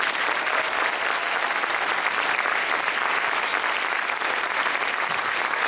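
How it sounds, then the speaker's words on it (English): A large audience applauds steadily at a high school honor band concert, a dense, sustained wash of clapping that stays loud and even throughout with no talk on top. "can we please put a big round of applause together for them?"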